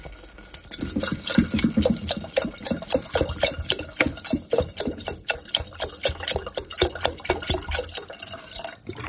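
Water pours into a cooking pot of dal and peas, with a steady stream of splashing, dripping and gurgling that runs unbroken and fairly close for several seconds.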